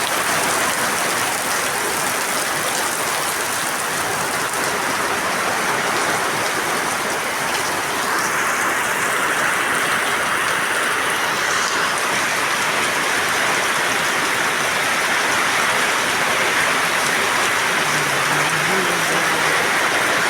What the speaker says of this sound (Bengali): দেখেন কি পরিমাণ বৃষ্টি হচ্ছে আমাদের বাগারা অঞ্চলে।